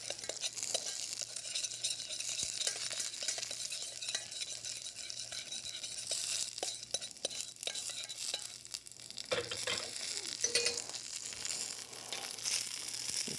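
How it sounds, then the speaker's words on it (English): A spoon stirs roasted Brussels sprouts tossed with extra virgin olive oil in a hot pan, with continuous scraping and clinking over a steady sizzle, close and moderately loud throughout. "Use our spoon here, give that a nice stir."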